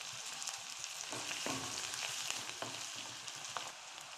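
Garlic, chili, ginger and onion frying in hot oil in a pan while pasta is made: a steady, faint crackling sizzle with small pops and occasional stirring scrapes, no voices.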